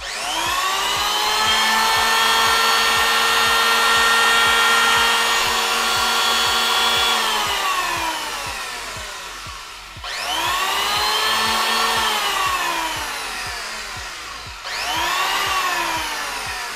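A Hitachi power tool motor runs at high speed with a loud, steady whine, winds down, then restarts twice in quick succession, each time spinning down again; no voices.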